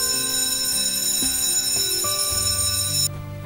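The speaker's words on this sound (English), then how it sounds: "that's the bell" A school bell rings as classes begin at about 8 a.m. in China, a steady sustained electric ringing with a bright metallic buzz that carries on throughout, then drops off abruptly near the end.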